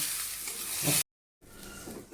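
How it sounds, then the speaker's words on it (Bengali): A steady hiss of lentils and rice frying in a pan over moderate gas, with faint stirring scrapes, interrupted by a short silent gap before the sizzle resumes. "ভালো করে ভাজতে হবে"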